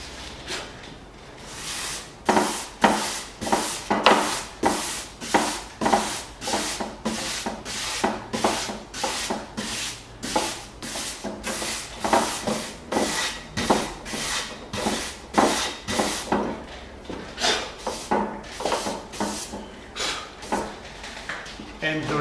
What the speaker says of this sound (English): I'm going back to 320, but this time by hand